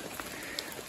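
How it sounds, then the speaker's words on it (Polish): Steady rain patters on a surface outside a trailer, a soft, even hiss with scattered individual drops. "ale pada i cały dzień ma padać"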